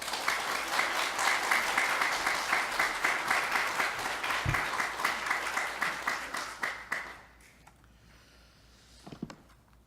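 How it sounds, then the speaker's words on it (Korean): A church congregation applauds steadily for several seconds to welcome a speaker, then the clapping fades out to scattered claps and quiet. "우리 박수로 환영해 주시기 바랍니다."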